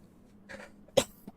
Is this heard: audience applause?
no